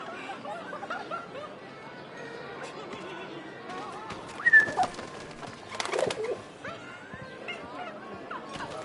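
Pigeons cooing in the video game Memories Retold, soft repeated coos and flutters in a Paris street scene, with a louder burst of wingbeats midway, under quiet ambient chatter.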